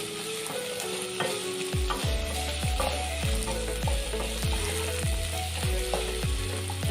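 Chopped carrots and mixed vegetables are stir-fried in a pan for egg pasta, giving a steady sizzle broken by a run of rhythmic scraping stirs from a utensil against the pan, close and with no talking.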